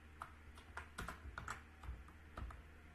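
Fingers tap on a computer keyboard in short irregular bursts of clicks, close but quiet, over a faint low background hum with no speech.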